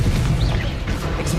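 In Hogwarts Legacy, a Confringo spell goes off as a deep, booming blast, a heavy low rumble sustained through the moment with faint crackling bursts layered above.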